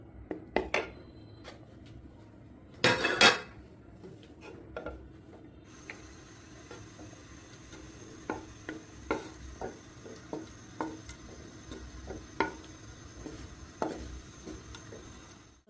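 Chopped mushrooms cooking in butter in a pan with crushed dried chillies, a soft steady sizzle under scattered clinks and scrapes of a utensil stirring against the pan, with a louder clatter near the start.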